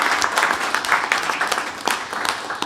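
A live radio show audience applauds a bluegrass band: steady, dense clapping from a crowd throughout, with no talk.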